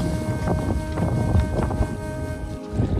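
Kayak paddling on calm water in a mangrove forest, with soft paddle splashes and water lapping against a steady wind-like hiss.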